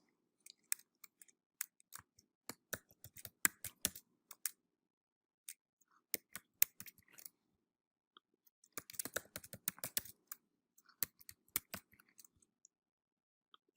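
Keys clacking on a computer keyboard as an email address is typed into a website sign-up form, crisp close taps in irregular bursts with pauses between, a dense flurry near the end.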